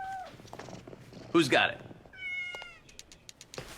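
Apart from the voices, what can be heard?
cat meowing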